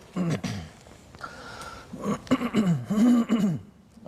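A man clears his throat a few times with rough, voiced rasps and short grunting coughs, close and fairly loud, with pauses in between.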